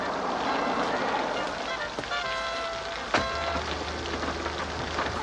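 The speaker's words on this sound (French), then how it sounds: "toi, debout, il pleut." Steady rain hiss with a faint rumble underneath, continuous throughout, with a couple of sharp knocks partway through.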